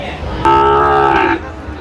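A single loud, close moo from a cow at a cattle market lasts about a second, with faint crowd murmur before and after.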